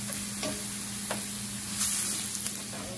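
Garlic sizzles steadily in a hot pan, a close constant frying hiss with a few light stirring scrapes.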